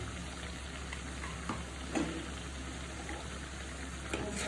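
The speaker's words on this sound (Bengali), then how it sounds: "আমি রসুনটা ভালো করে কষিয়ে নিব" Garlic sautéing in a pan for a chicken roast, a steady low sizzle and fry hiss throughout with a few soft stirring knocks, fairly quiet and with no talking.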